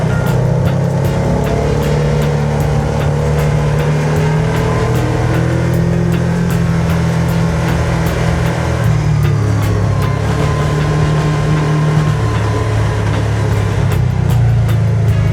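A UTV rolls down a hill with a steady, loud low engine drone and continuous vehicle rumble that runs close and unbroken throughout.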